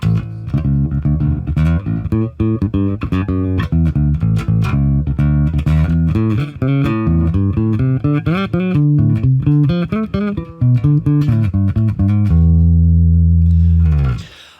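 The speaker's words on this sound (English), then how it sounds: "with my fingers, tone all the way up" A custom neck-through electric bass with a P pickup and ebony, maple and alder woods, played fingerstyle with tone all the way up, plays a busy run of bright, close plucked notes, ending on a long sustained low note that fades out.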